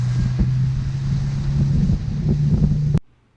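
Wind buffets the microphone aboard a 17-foot boat about ten miles offshore, a steady roaring rush with a constant low drone underneath that runs for about three seconds and then cuts off abruptly.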